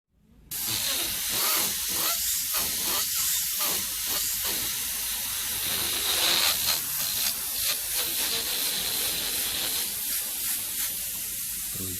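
An airbrush sprays paint in a continuous airy hiss, starting abruptly and holding steady with slight pulses as the trigger is worked, close and clear with no talking.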